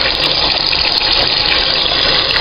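Loud, steady gush of hot water pouring into a tub holding rusty parts from a Craig/Pioneer TP-8001 underdash 8-track player, close and continuous with no talk.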